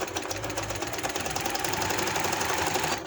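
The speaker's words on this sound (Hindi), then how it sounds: "इस तरह से अब हमने एंड तक इसको सिलाई लगा लेनी है।" Sewing machine stitching lace onto a velvet party-wear frock, a steady rapid mechanical chatter that runs close and even throughout, with no talking.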